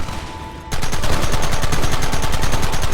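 Rapid gunfire erupts in the Western video game Red Dead Redemption, a loud continuous burst of shots in quick succession following a brief quieter moment.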